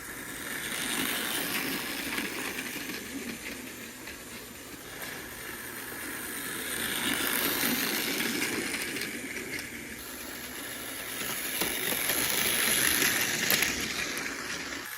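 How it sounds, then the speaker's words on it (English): A toy train engine runs along its track with a continuous faint mechanical whir and rattle. The sound swells and fades slightly as it moves, with no voices. "that's great that Salty is a fantastic runner"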